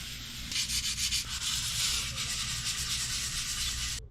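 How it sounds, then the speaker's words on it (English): Sandpaper is rubbed back and forth across the wall of a box truck camper conversion in quick, close, scratchy strokes, loud and steady with no talking. "So I'm gonna get all that sanded down"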